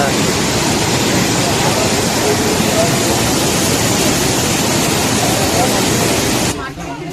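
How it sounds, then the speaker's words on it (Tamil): The Courtallam waterfall in heavy flood roars loud and steady at close range, a dense, unbroken rush of water that drops away abruptly near the end. "பயங்கரமாக வெள்ளப்பெருக்கு ஓடிக்கிறது"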